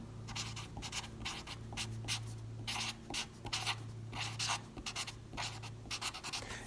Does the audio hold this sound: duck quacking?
no